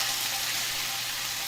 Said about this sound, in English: Oh, it's still sizzling.